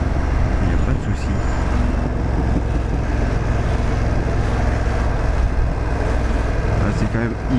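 A BMW F900R motorcycle fitted with a quickshifter is ridden while downshifting, giving a loud, continuous engine drone mixed with wind and road noise close to the rider for the whole stretch.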